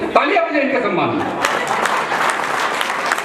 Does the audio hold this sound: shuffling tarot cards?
no